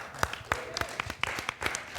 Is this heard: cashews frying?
no